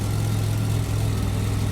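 A GM 2.8 MPFI engine idles smoothly with a steady, low, even hum. It sounds loud and close, and no other sounds break in.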